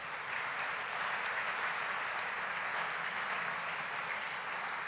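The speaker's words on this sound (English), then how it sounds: "please join me in a round of applause to help welcome our new members" An audience claps steadily to welcome new members at a talk on brain health, a dense, even wash of applause sustained throughout without any voices.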